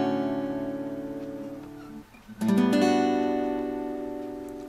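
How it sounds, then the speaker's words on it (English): Acoustic guitar strumming two chords one at a time, a ringing chord fading out, a short gap, then a second strum ringing and slowly decaying, close and alone. "We'll start the song by just strumming the chords one at a time"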